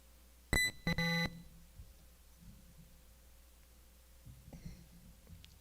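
A quiz-competition buzzer at a scholarship challenge round gives a short sharp beep followed by a longer sustained tone, loud and clear over a quiet room, with faint background noise afterward.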